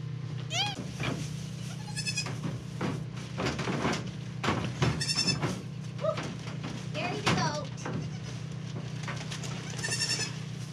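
Baby goats bleat repeatedly while being moved to a new pen on a homestead, several thin wavering cries scattered over a steady low hum, with a person talking softly between them.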